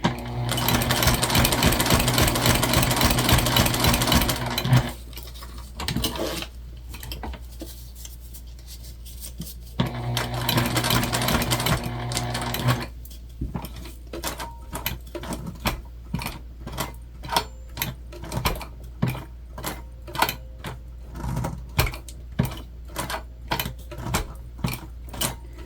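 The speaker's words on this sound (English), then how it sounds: "Hand cranking." A hand-cranked sewing machine stitches a backpack in two long whirring bursts, then slows to a run of distinct, evenly spaced mechanical clicks and ticks as the crank turns steadily.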